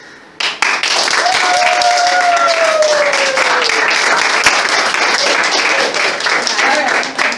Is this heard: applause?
yes